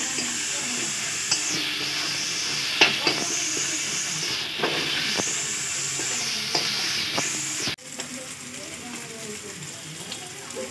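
Ginger paste fries in a hot pan while a curry is cooked, giving a steady loud sizzle with scraping stir clicks scattered across it, the hiss dropping slightly after a sudden break partway through.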